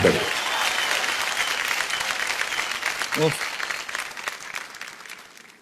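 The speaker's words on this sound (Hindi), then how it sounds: "सर एक बार जोरदार तालियां हो जाए" Studio audience applause on a television comedy show, a strong burst of clapping that slowly fades, with a brief voice or cheer breaking through partway.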